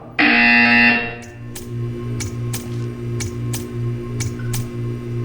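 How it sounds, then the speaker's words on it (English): A harsh electronic buzzer from the video game Portal 2 blares loudly for about a second, then fades into a steady low hum broken by faint ticking clicks. "You will hear a buzzer. When you hear the buzzer, stare at the art."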